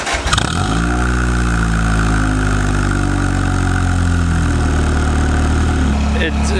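A car engine idles with no exhaust fitted, a steady, rough, loud, unmuffled drone and a deep low rumble. It stays constant throughout with no talking.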